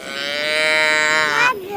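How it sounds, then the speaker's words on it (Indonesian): A toy cow lets out a loud, steady electronic moo held for over a second before it cuts off abruptly, close and clear with no talking over it. "itu ada sapi"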